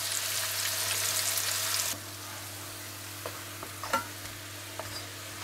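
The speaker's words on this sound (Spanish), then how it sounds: "La freímos hasta que esté doradita." Hojuelas, a thin fried dough, sizzle in hot oil, a dense hiss that stops abruptly, followed by quieter bubbling with a few clinks and taps of a utensil.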